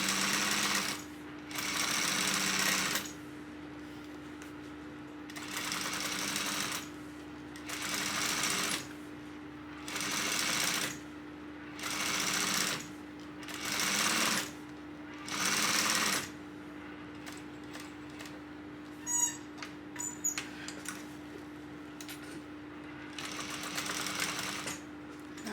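A sewing machine stitches a tote bag strap with a 1/8 inch seam allowance. It runs in about eight loud mechanical bursts of a few seconds each, with pauses between them and a steady motor hum throughout, and brief handling clicks near the end.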